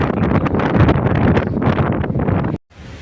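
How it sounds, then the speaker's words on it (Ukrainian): Strong coastal wind in Senj, Croatia buffets the microphone in a loud, roaring rush, then cuts off abruptly near the end, leaving only quieter outdoor air. "О, вітер."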